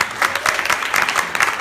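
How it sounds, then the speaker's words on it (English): An audience at a reception applauds, a dense, steady patter of many hands clapping close and loud throughout. "You can't clap for yourself, Janet"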